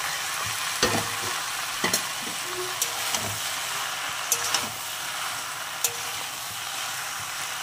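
Fried vegetables, water spinach, stirred in a large wok: a steady sizzle of frying with scattered scraping clicks of the spatula against the metal, close and moderately loud, no voices.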